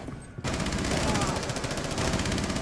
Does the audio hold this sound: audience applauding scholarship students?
no